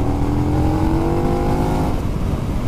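A 2020 KTM Super Duke R 1290 motorcycle pulls in fourth gear from about 3,500 rpm at 50 mph, a steady loud engine drone with a dense low rumble and a faint rising tone, heard up close with no talk.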